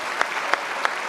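A studio audience on an Indonesian talk show gives a brief round of applause, a steady patter of clapping with a few sharper claps standing out.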